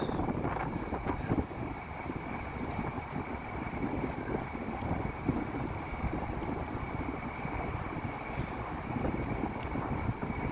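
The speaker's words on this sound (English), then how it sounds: "It's windy here." Continuous wind buffets the microphone on a city street in Toronto on a wet evening, a broad, rushing roar that stays steady throughout, with no voices.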